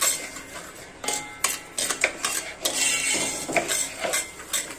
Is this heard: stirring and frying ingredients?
yes